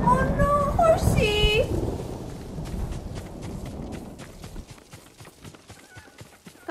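A horse gallops in Ghost of Tsushima, its hoofbeats a rhythmic drumming that sharpens toward the end, at first under a voice and game sounds that fade out.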